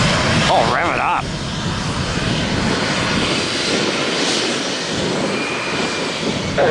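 A Spirit airliner's jet engines roar loudly and steadily on a Tampa airport runway, a broad, close rumble heard alongside an air traffic radio voice and a nearby speaker.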